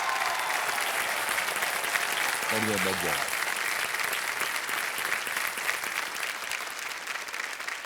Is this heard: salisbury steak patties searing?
no